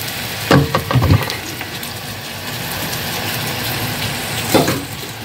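Ginger sizzling in hot cooking oil, a continuous close, fairly loud frying hiss with a few clattering stirs near the start and again toward the end.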